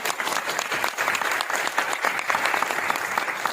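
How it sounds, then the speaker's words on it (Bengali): An audience at an income seminar claps loudly, a dense burst of hand clapping from a full room, close and continuous throughout. "একবার জোরে হাততালি হওয়া উচিত।"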